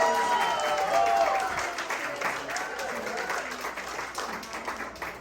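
An audience at a book launch event claps for the publisher, a broad wash of applause that swells and then gradually tapers, with voices mixed in underneath.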